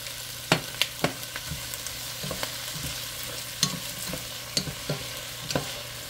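Tomatoes sizzle in a frying pan for fish sarciado, with a steady frying hiss broken by sharp scrapes and knocks of a spoon stirring, close by.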